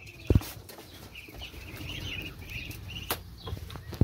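A rooster in its pen on a farm gives clear repeated crowing-like calls through the middle of the clip, with a sharp knock near the start and another near the end over a low ambient rumble.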